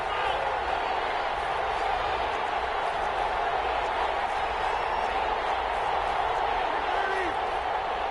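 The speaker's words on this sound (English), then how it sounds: "the crowd getting into it as we come up on a big 3rd down" Steady roar of a football stadium crowd at a Green Bay Packers game ahead of a big third down, a broad continuous wash of massed voices holding at an even level throughout with no distinct peaks.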